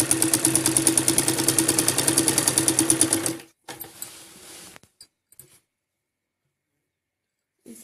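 A sewing machine stitches piping onto a salwar in a steady, close, loud run of rapid needle strokes for about three seconds, then a shorter burst and a few faint clicks before silence.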